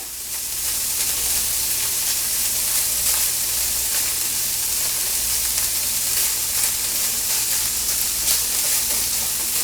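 Meat browns in a hot pan for dirty rice, giving a loud, steady, close hiss of frying fat that holds without a break. Faint crackles sit within it, and no one speaks.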